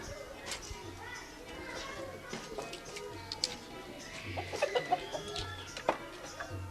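Chickens cluck and squawk in short irregular bursts, near and mid-distance, mixed with children playing and voices talking in the background.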